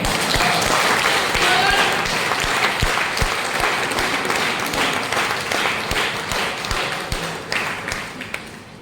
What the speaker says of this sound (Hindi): बजाइए इसको जोरदार ताली